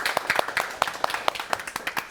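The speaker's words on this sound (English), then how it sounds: "Let's give a huge round of applause to everyone." A small panel-discussion audience claps, producing thin, evenly spaced hand claps rather than a full roar. The claps are fairly faint and last about two seconds.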